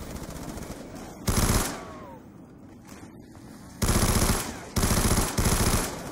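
Gunfire in the Call of Duty zombies map Mob of the Dead, loud bursts of rapid automatic shots in three separate volleys, with quieter game sounds between.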